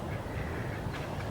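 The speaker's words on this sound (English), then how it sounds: "They just being some ducks." A small group of ducks quacks nearby outdoors, a dense low chatter of calls over a steady background rumble, with no voices.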